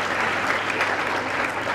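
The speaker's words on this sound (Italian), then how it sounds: "facciamo un applauso" A school audience in Buenos Aires claps together, a dense, even wash of applause holding steady throughout.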